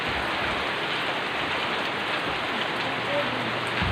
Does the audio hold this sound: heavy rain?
yes